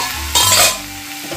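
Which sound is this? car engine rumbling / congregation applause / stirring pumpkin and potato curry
stirring pumpkin and potato curry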